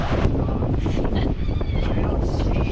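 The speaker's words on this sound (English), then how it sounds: "The wind's about 17 to 20 knots apparent, and we are hooning along at 9 knots." Strong wind roars and buffets across the microphone aboard a Leopard 45 sailing catamaran moving fast at sea, a loud continuous rush with water noise underneath.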